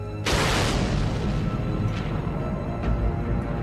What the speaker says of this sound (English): A horrendous explosion in the sky.